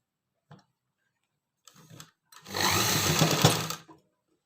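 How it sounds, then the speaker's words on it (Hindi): A sewing machine stitches around a pocket on pants or a palazzo, starting with a couple of short bursts and then running in one steady, fairly loud stretch of about a second and a half before stopping. "और अब इसकी सिलाई स्टार्ट कर दूँगी यहाँ तक।"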